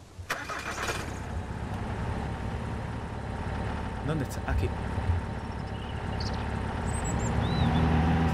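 A car engine cranks and starts in the survival video game Mist Survival, settling into a mid-pitched running hum under brief speech.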